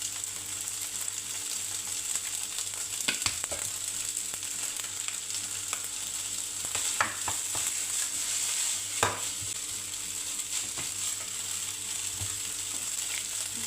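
Fried rice with dark soy sauce sizzles steadily in a hot wok, a constant close hiss broken by occasional scraping and stirring clicks, with no talking.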